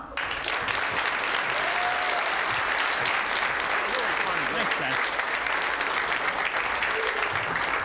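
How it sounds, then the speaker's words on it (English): Comedy club audience applauds a comedian being introduced in Fort Wayne, a dense, steady roar of clapping that fills the whole stretch at even loudness with no speech over it. "Ladies and gentlemen, put your hands together, Mr. Ken Garr."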